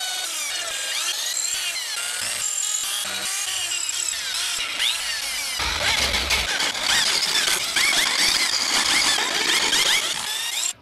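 Holes being drilled in a homemade wooden camera stabilizer, a close power drill whining and squealing continuously as it bites into the workpiece, growing harsher midway.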